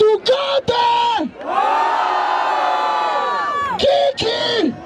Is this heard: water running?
no